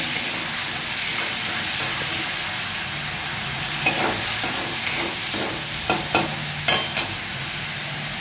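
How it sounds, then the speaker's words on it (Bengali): Tomato paste fries in a pan for a fish-head and bottle gourd curry, giving a steady close sizzling hiss. A few spoon scrapes stand out near the end, and no one speaks. "এবার এটাতে আমি টমেটো বাটা, একটু নেড়ে নিই।"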